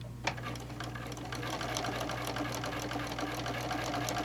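A sewing machine runs steadily and close up, stitching a fabric bowl cozy with a continuous fast whirring rattle and a brief tap near the start.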